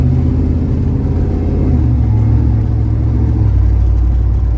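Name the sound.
ZL1500 car with 10-speed transmission driving on road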